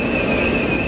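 Rail wagons hauled by Chinese Dongfeng diesel locomotives, a loud continuous metallic squeal of wheels with steady high tones over rumbling rolling noise, close by.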